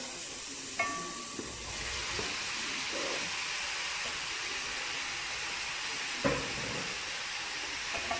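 Butternut squash and potato pieces go into a hot pan, a continuous soft sizzling hiss with a couple of brief louder clatters as they land, heard without voices.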